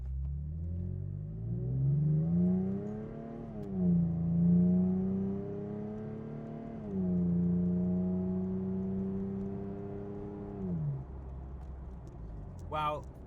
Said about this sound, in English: Let's see how this new tune accelerates.